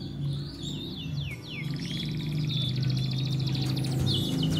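A male canary sings near at hand, with rapid trilling chirps and fast rolling phrases running continuously over a low background hum, no voices.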